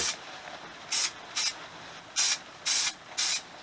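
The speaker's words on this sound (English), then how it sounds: "It's just a spray adhesive. I'm going to lightly coat up both sides" Spray adhesive hisses from an aerosol can in five short, sharp bursts, close and loud, with brief pauses between them, while seat cover material for an FZ50 motorcycle is coated.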